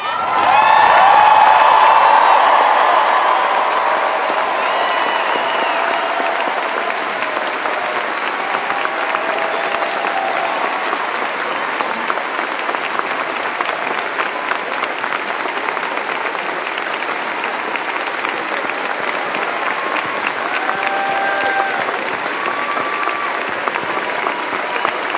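An audience applauding and cheering at a ceremony, loud sustained clapping that swells at the start with whoops and shouts, then settles into steady applause for the full stretch.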